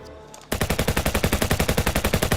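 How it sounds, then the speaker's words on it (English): Machine gun fire in a movie scene, heard as a loud, rapid burst of evenly spaced shots that starts abruptly after a quiet moment and keeps hammering to the end. "Like that scene when Kelsey Grammer like shoots the machine gun."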